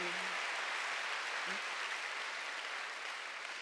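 A church congregation applauds during a Sunday worship service, a steady wash of many hands clapping at moderate distance, with a faint voice briefly audible at the start.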